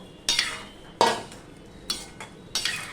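Metal utensil clinks and scrapes against a pot as cauliflower florets are stirred in water, four separate knocks spaced about a second apart, close and fairly quiet with no voice.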